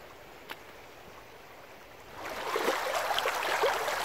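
Stream water splashes and churns as gold-bearing clay is washed by hand, quiet at first, then a fuller close gurgling and sloshing starts midway and continues to the end.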